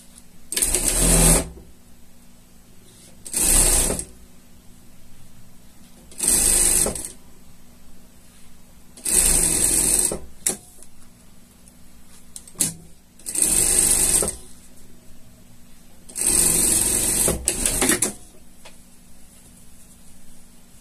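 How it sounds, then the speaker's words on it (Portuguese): A sewing machine stitches a seam in fabric for a shark costume, running in six or seven short loud bursts of rapid whirring separated by quiet pauses. "Vamos passar uma costura aqui"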